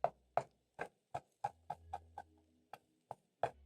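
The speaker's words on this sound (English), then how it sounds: "I'm going to crush the seasoning cubes." Seasoning cubes being crushed for Kenyan omena, a series of about a dozen sharp, dry knocks and crunches at an uneven pace, close and fairly quiet with brief gaps between strikes.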